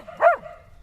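Monty the dog lets out a single short, bright bark or yelp toward a swan outdoors, with quiet ambient noise around it.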